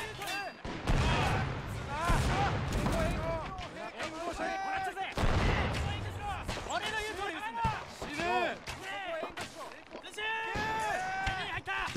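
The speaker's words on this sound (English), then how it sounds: "Let's see if we can get a volley." Musket volleys from Japanese troops in an 1868 beach invasion battle in a Shogun mod strategy game. Heavy repeated gunfire crackles and booms throughout, with shouting and voices mixed in.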